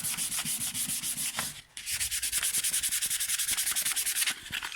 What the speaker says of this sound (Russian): Шкурим. Не сильно долго, сильно много.